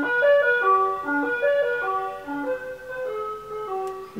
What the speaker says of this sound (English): And that was the ice cream truck.